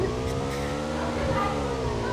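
Steady engine drone of a vehicle driven flat out at full speed in Battleground Mobile India, with stacked harmonic tones holding nearly level and loud throughout, faint tire noise underneath and no pause.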